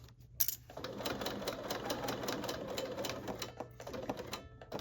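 A hand-cranked sewing machine stitches through a heavy-gauge metal zipper for several seconds, its rapid needle ticking in a dense mechanical rhythm, close and continuous with a brief pause near the start.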